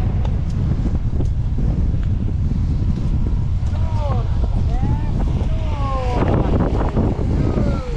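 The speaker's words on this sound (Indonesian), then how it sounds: "Angin nih." Strong wind buffets the microphone outdoors near Taoyuan Airport with a constant loud low rumble, while voices talk over it in the second half.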